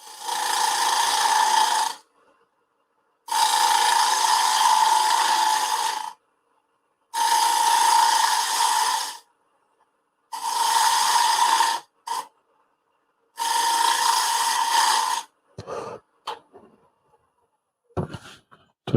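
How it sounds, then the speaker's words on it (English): Wood lathe turning face grain at 1600 RPM, the tool cutting in loud raspy bursts of about two seconds each, separated by silent pauses, ending in a few short scrapes and knocks. "I'll turn a little faster now. 1600 RPM."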